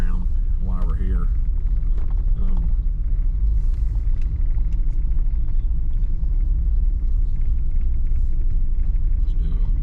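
An off-road vehicle rolls slowly around a state park campground, its low engine rumble and road noise steady throughout while people talk over it.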